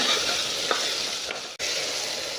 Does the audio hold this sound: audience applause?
no